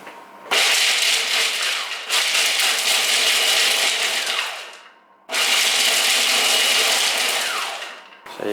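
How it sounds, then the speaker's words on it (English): A food processor chops a batch of nuts and dried fruit for muesli bars in two loud, roaring bursts, each running several seconds before cutting off and winding down, with a short pause between them. "these have to be put in batches through a food processor just to chop them up a bit"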